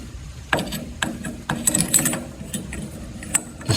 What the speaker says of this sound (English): We're gonna be loosening that nut inside.